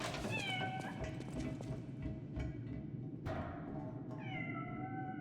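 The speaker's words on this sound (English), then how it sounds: "Is that the cat from the base game?" A cat in the video game Lies of P meows twice, with drawn-out rising and falling cries over steady game ambience and background noise, fairly clear, with no talking.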